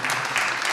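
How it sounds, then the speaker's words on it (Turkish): Audience at a gala night applauds in a brief, dense burst of steady clapping. "Şaban Ulus abimin nezdinde bütün Sanat TV çalışanlarına kocaman bir alkış almak istiyoruz."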